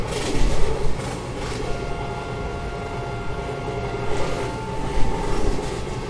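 The 19033 Gujarat Queen train in the MSTS Open Rails simulator runs steadily with a loud, continuous rail rumble and faint wheel clatter, no voices present.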